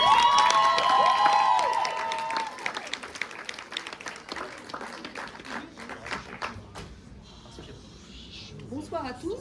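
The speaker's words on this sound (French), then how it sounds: "On a applaudi la marraine de la FFDN" Audience applause at the final of a university debate competition in Lille, loud and dense at first, then thinning into scattered claps and crowd noise that fade toward the end.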